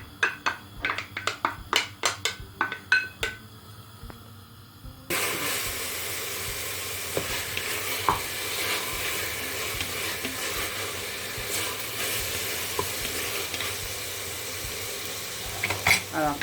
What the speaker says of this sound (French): On va mettre la viande avec les oignons. On va faire revenir un tout petit peu.